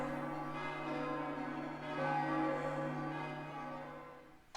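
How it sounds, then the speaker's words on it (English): Montreal church bells in a children's video game, sustained ringing tones with a long humming decay, steady and moderately loud, swelling slightly midway, with no talk. "The sound of their bells can be heard all around the city."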